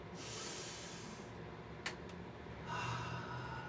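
Steady deep breathing during a yoga exercise, a long drawn breath followed by another slightly louder exhale, close and continuous with no talking.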